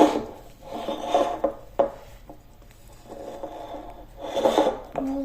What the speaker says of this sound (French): Donc là, il faut que tu mélanges tout ça.